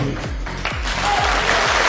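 An audience at an awards ceremony applauds steadily, many hands clapping together at a moderate distance, the sound swelling slightly toward the end.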